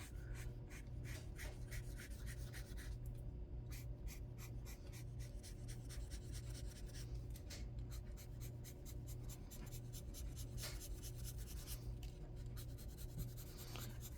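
Bullet nib of a Sharpie S-Note marker scratching across paper in quick repeated strokes, faint and close with soft breathing in the background and no speech.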